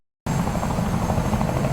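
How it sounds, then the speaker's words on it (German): A helicopter engine cuts in abruptly after a moment of silence and holds a loud, steady whine and rumble to the end, close by with no talk. "Der Pilot startet den Motor zu früh."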